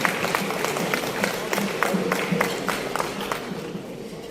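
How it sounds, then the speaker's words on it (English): Applause at a Brazil 200-year anniversary event in Lagos: steady clapping from a sizable crowd over a busy, murmuring room, moderately loud throughout. "Please give him a resounding round of applause."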